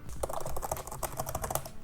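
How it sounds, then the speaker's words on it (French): Rapid keystrokes on a laptop keyboard with a firm, crisp action, clicking in a quick, uneven rhythm close to the mic, with no voices. "Le clavier, lui, a une très très bonne frappe."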